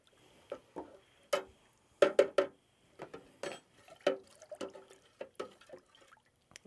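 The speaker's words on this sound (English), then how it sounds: "So I'm just going to mix this in." A spoon stirs vanilla extract into cooled homemade cream soda syrup, giving quiet, scattered clinks and small liquid ticks in an uneven rhythm, some landing in quick clusters.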